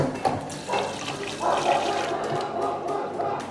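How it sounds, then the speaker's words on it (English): Water running from a kitchen tap into a pan for cooking yam, a continuous splashing gush with uneven bursts as the flow shifts, close and fairly quiet. "I just have to fetch a little water because I can't put a dry pan."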